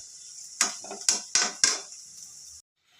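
Sliced onions frying in oil for beef biryani: a continuous bright sizzle broken by four sharp utensil scrapes against the pan, close up, then the sound cuts off abruptly near the end.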